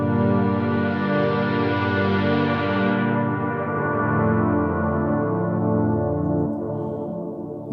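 A full, lush Black Hole synth pad from UVI Cinematic Shades sustains thick layered chords, its bright upper shimmer fading after a few seconds while the low body keeps droning steadily.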